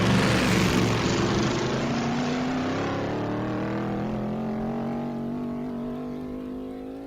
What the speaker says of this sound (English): That big block sounds great.